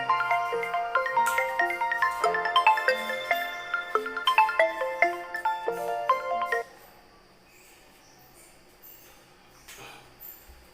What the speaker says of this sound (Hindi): सॉरी फोन आ गया था इसीलिए उसको साइलेंट करने के लिए